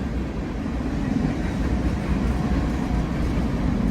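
Metra commuter train 1260, eastbound from Aurora to Chicago Union Station, passes the Hinsdale, Illinois depot during fresh snowfall, making a steady, loud, broadband rumble and roar that holds constant throughout.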